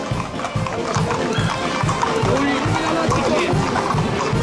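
A horse-drawn cart rolls past in a Provençal Carreto Ramado procession, hooves clip-clopping in a steady rhythm on the street with a busy crowd murmur and a commentator talking over it.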